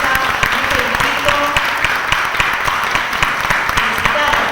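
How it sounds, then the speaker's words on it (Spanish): Audience at an event honoring the Colegio de Abogados breaks into sustained, loud applause, a dense mass of clapping from a crowd filling the room. "vamos a dar un aplauso para el Colegio de Abogados que puso el tema en esta mesa"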